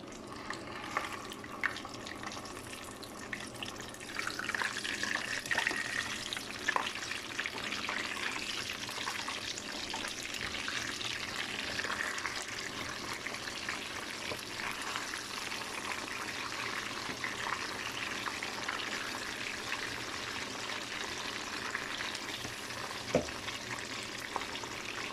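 Fish frying in hot oil in a home kitchen: a steady, soft sizzle and crackle that continues evenly from start to finish, faint and without talking.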